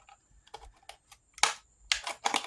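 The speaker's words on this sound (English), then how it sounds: "just going to do it as straight as I can with these scissors." Scissors cut through paper card for a jacketed journal card in a string of crisp, close snips and rustles, starting faint and getting louder in short bursts toward the end.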